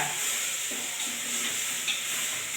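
Eggplant and green gram sautéing in a pan for a tamarind kuzhambu, giving a soft, steady sizzle with faint stirring scrapes, fairly quiet and with no voices.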